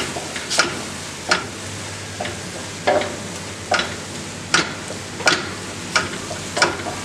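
Spicy beef curry being stirred in a pan, with a spoon scraping in regular strokes about every second over a soft background sizzle.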